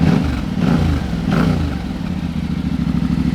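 A black 2022 Yamaha T700 motorcycle engine starting and settling into a steady, fairly subdued idle, close by with a throbbing low rumble.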